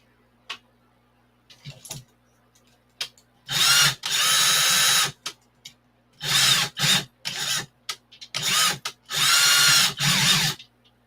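A handheld power drill whirs in several short bursts of one to two seconds each, separated by pauses with faint clicks and handling noises, close and loud.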